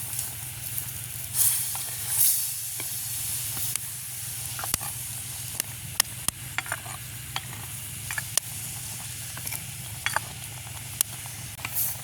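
Onions tossed into a hot pan in a village kitchen sizzle steadily while a utensil scrapes and stirs them, with a constant frying hiss and occasional sharp clinks.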